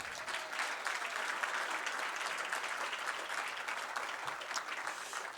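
A room full of people applauds students from the Samuel Adams Elementary School at a civic event in East Boston, a steady, dense wash of clapping that holds at an even level for several seconds.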